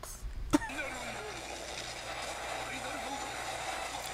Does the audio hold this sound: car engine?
yes